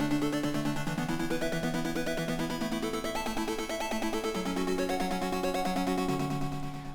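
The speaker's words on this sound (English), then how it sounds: "if you listen to just the arpeggios on their own, they sound like this" A synthpop synth arpeggio plays bright stepping notes in a fast, even pattern that climbs in pitch over several seconds, with pumping sidechained to a kick drum. It plays alone and fairly loud.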